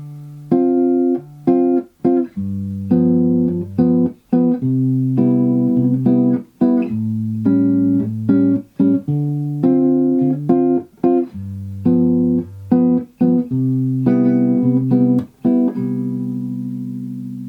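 Rhythm guitar chords played in a syncopated bossa nova pattern, short strums alternating with rests, moving through a chord progression, clear and up close.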